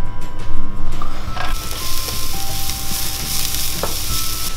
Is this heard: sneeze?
no